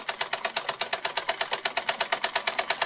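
An 1897 Carette toy steam engine runs with a fast, even chuffing beat of about seven puffs per second, close and steady, a hissing rhythmic pulse with no voices.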